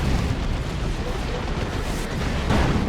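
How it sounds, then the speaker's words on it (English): A bunker explodes amid a busy battle in the video game Dawn of War 2. A dense, continuous rumble of blasts and artillery booms fills the clip, with a heavier burst near the end. "That bunker's not going to last, and it's also going to explode."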